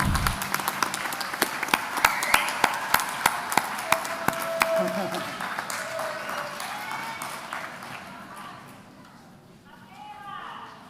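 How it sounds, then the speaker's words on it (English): Graduates at a community college commencement applaud their families, scattered claps and sharp individual slaps over a murmuring crowd, thinning out and fading toward the end. "give them a round of applause"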